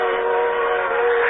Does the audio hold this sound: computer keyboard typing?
no